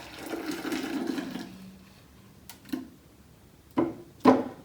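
Blended coconut milk pours from a blender through a muslin nut milk bag into a jug, a gurgling liquid rush for about a second and a half, then quiet with a few sharp taps and knocks close by.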